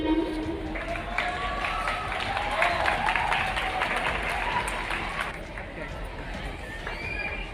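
Sustained applause from a crowd at an Independence Day school event, a dense steady patter of many hands clapping, with a voice talking over it.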